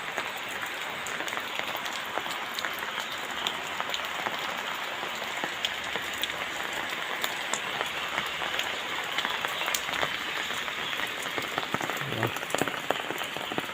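Steady rain pours down for the whole stretch, a dense, even hiss with scattered sharp drops striking surfaces and puddled water nearby. There is no talk.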